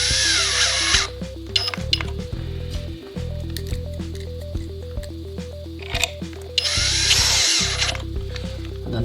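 A power drill fixes an Alunet BF73 aluminium bifold door part into the thermal break at the bottom, two loud close whirring bursts at start and end with scattered clicks and handling noises between.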